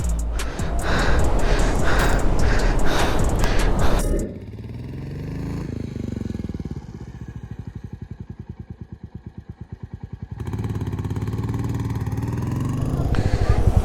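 A motorcycle with a struck, damaged exhaust roars loudly on the mountain road from Kishtwar to Killar, then drops to a low, uneven, sputtering idle before revving up again.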